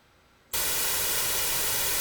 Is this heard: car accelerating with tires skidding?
no